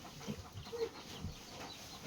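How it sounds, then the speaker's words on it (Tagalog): Chickens cluck in short, scattered bursts at a farmyard, low and moderately close, with no one talking. "Mga manok, B!"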